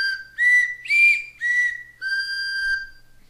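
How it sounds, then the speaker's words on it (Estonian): A handmade wooden multi-pipe whistle tuned to a three-note chord is blown in four or five short, loud, clear blasts, each sounding several pitches at once, with the last blast held longer. "Tavaliselt häälestan ma sellised viled akordi peale, nii et neid puhudes tuleb 3 kõla."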